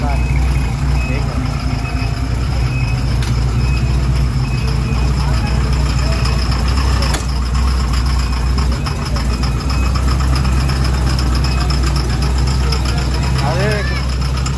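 1949 Ford F1 V8 engine idling on Worli Seaface, a steady low rumble under continuous loud street noise, with faint voices nearby.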